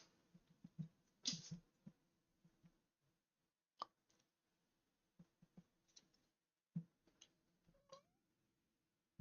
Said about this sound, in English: I don't know if you guys can hear my cat meowing.